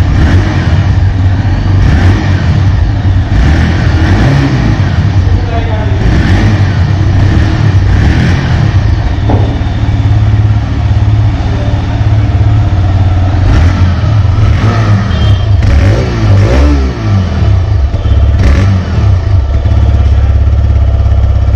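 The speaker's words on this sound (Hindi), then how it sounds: "अब चलिए उसका एग्जॉस्ट नोट सुनिए" A 125cc motorcycle, a Bajaj Pulsar NS 125 or TVS Raider 125, revs its engine repeatedly, the exhaust note rising and falling in loud close bursts over a steady idle, with no talking.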